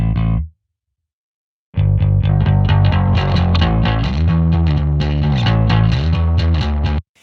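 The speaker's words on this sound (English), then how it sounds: "I'm just going to use this little Rickenbacker bass right here just to kind of mimic this bass line" A Rickenbacker bass guitar plays a bass line of punchy, distorted repeated hits, loud and close, starting after a brief pause and continuing steadily with no voices.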